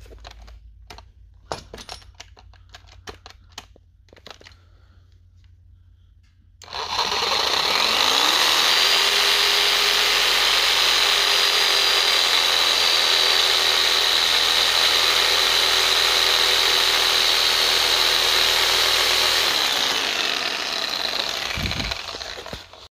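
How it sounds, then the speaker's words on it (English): A Sawzall reciprocating saw cuts a part down the middle during a cheap lift-kit job on a 2001 Honda CR-V. The loud, steady buzzing runs for about thirteen seconds, after a stretch of faint clicks and knocks. "I'm using my sawzall."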